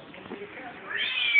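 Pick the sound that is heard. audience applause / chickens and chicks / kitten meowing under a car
kitten meowing under a car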